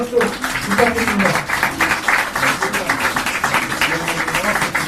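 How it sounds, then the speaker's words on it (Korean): Applause fills a Korean political party press conference, a dense burst of many hands clapping that swells after a brief pause and continues steadily to the end. "다시 한번 한동훈 위원장께 뜨거운 박수 부탁드립니다."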